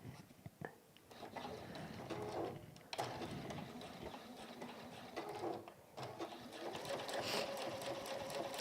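A sewing machine top stitches through fabric on a hexie needle keep, running in steady continuous bursts with short pauses between runs, close and clear with no talk.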